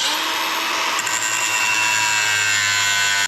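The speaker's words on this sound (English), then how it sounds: "I'm just going to cut this bolt off and cut these threads off" A power tool cuts steadily through a metal bolt on a feed cart during a farm repair, giving a continuous loud, high whine that holds for several seconds without a break and then stops abruptly.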